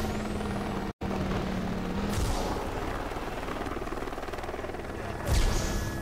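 A helicopter in the driving video game Driver San Francisco gives a steady, loud rotor and engine drone. The sound drops out for an instant early on, and a whooshing swell rises near the end, with no talking.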